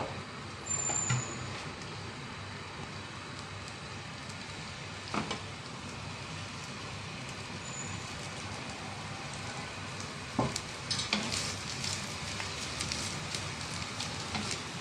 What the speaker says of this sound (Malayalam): ഈ തേങ്ങ വറുക്കുന്ന കൂടെ കുറച്ച് ചെറിയ ഉള്ളി കൂടെ വറുത്തെടുക്കാം